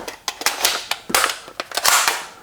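Several sharp dry clicks from the trigger and action of a Ruger PC Carbine 9mm takedown rifle, close and crisp, spaced irregularly with no voices.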